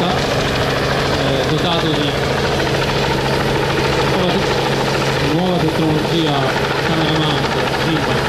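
A model drone aircraft's motor buzzes and whines steadily throughout, loud and close, at a model hobby show, while people talk underneath it.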